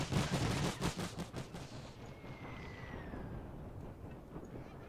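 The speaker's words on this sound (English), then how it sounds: "this machine gun has now opened fire" Machine gun fire in the World War I strategy game The Great War 6.0, a rapid burst of distant rattling shots that fades after about two seconds into quiet battlefield ambience with a faint whistling tone.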